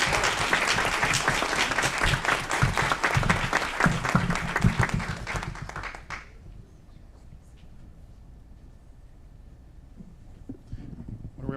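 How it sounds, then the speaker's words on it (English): Loud audience applause at a city council meeting, dense clapping that fills the first six seconds and then fades away, leaving quiet room noise with a few scattered sounds. "Let's give all these young ladies a round of applause."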